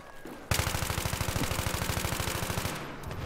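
Automatic weapon fire rattles in Battlefield 3, a loud, rapid, evenly paced burst of gunshots lasting a couple of seconds before stopping, with no voices over it.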